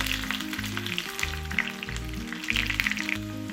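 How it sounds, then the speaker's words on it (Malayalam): Shallots, dried chili and curry leaves sizzle and crackle steadily in hot oil, with a gentle continuous frying hiss and scattered pops, close and alone. "ഇത് ചെറിയ ഉള്ളി ഒരു ബ്രൗൺ നിറാവുന്ന വരെ ഈ എണ്ണയിൽ മൂപ്പിക്കാം"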